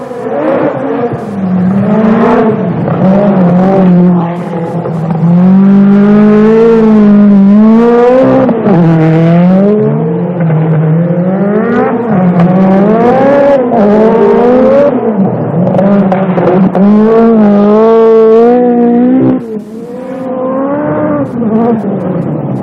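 A Peugeot 405 four-wheel-steering Pikes Peak race car drives hard on dirt in the United States, its engine loud and close, revving up and down repeatedly through gear changes for the whole stretch.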